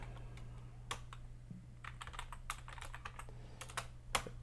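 Keys clack on a computer keyboard as a folder name for a Studio One song gets typed, an irregular run of close, crisp taps with short pauses in a quiet room.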